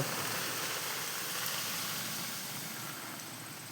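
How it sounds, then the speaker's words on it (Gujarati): Steady, dense hiss of heavy rain with a constant rushing wind roar, loud and unbroken throughout. "અત્યારે આપણે આવી રહ્યો છે વરસાદ જુઓ"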